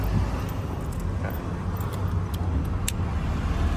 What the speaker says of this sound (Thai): ทดสอบสตาร์นะครับ ตาร์ทติดปกตินะครับ